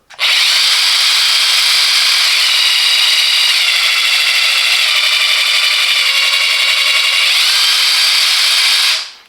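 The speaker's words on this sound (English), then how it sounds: "And from 100, pressing the button, it goes at maximum 400 Nm." A Parkside 20V cordless impact wrench, PASSK 20 Li C4, runs at its maximum 400 Nm setting: one continuous, loud, close whirring hammer buzz lasting about nine seconds, starting and stopping abruptly.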